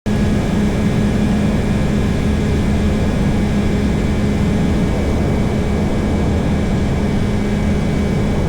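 AirBike ultralight aircraft engine droning steadily and loudly during the climb out, a constant buzzing roar with a steady tone and no pauses.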